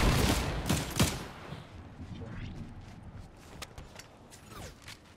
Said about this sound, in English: someone's shooting razor blades at us